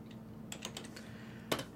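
Someone typing on a computer keyboard during router configuration, a handful of soft close key taps with one sharper clack near the end over a quiet hum.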